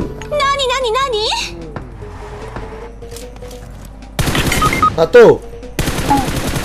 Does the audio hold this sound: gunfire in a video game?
yes